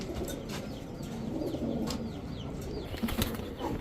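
A pair of Indian jhakgola chuithal pigeons, male and female, coo in a busy loft amid steady low murmuring and occasional wing flaps, with several other birds calling faintly in the background.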